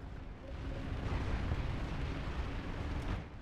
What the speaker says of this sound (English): the new weapon they have for the heavy assault. It's a rocket launcher.